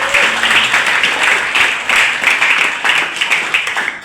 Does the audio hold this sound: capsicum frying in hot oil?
no